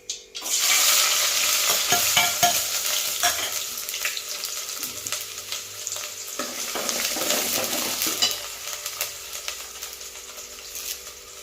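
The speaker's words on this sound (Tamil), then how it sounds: "இப்போ பெரிய வெங்காயம் அரைஞ்சது போட்டுக்கலாம்." Ground onion fries in a pan for crab curry, a loud, continuous sizzle with repeated scraping stirs of a spoon close by, lasting throughout with no talk.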